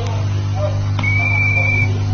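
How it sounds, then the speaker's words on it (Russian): A referee's whistle in the ice hockey video game NHL '97 sounds as one steady, shrill tone of just under a second over a constant low electronic hum. "Свисток арбитра."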